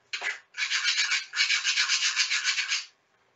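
A screwdriver tip scrapes hard across a pergola purlin's Chroma Guard finish, one short stroke followed by a longer run of rapid, rhythmic rasping scratches, close and fairly loud, with no talking.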